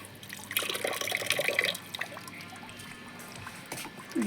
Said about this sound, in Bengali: জলটা ভরে নিই, ওটা মেশাতে হবে তো।